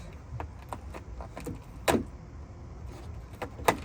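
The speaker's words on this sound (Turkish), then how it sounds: "Anahtar." A key works at sealed plastic packaging, giving scattered scraping, clicking and crinkling noises with a couple of sharper tearing bursts, close up and fairly loud, with no talk.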